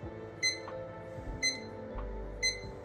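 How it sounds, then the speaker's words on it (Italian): A Baldr weather station's alarm clock sounds three short electronic beeps about a second apart, each a bright clipped tone over a low steady room hum, with no voices. "E qui abbiamo la sveglia."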